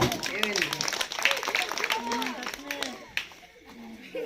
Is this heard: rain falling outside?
no